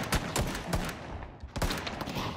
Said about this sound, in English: is she shooting from the bike?